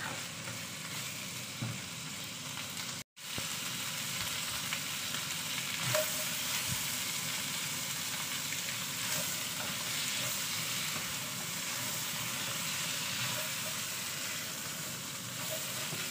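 Vegetables sauté in a hot pan for bulanglang, a Filipino coconut-milk vegetable dish, giving a continuous close sizzle and crackle that cuts out briefly near the start and then resumes steadily.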